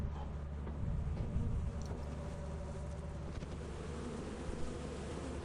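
Bees buzz around a stolen beehive in Lethal Company, a soft, continuous droning hum with a steady low rumble beneath and no talking.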